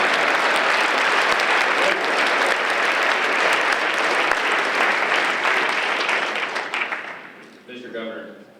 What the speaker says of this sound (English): All right, let's have a round of applause